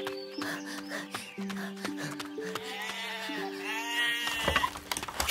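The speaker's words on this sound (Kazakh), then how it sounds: "қорадағы қойларды өріске айдаңдар" Animated sheep bleat from a pen, several wavering cries one after another over a quiet musical tone, rising in strength toward the end.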